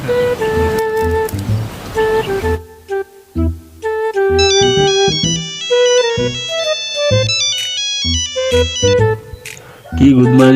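A phone rings with a melodic electronic ringtone, loud and close, playing a repeating tune of bright chiming tones after a short stretch of other sound at the start.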